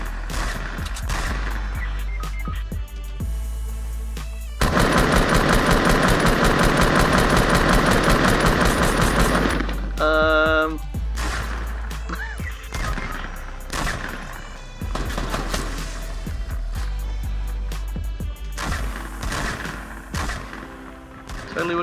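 Fortnite gunfire rattles in loud, dense bursts, with one sustained volley near the middle and scattered single shots and game effects around it, against a steady low rumble.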